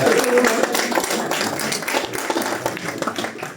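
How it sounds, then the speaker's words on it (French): An audience at a youth chess tournament applauds young player Noah David during the player presentations, with moderate, steady clapping that tapers slightly. "Aux applaudissements pour Noah David"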